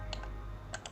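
Two pairs of crisp computer keyboard key clicks while working in Marvelous Designer/Clo3D, each pair quick and close together, with a quiet pause between them and a low steady hum underneath.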